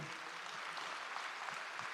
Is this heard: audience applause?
yes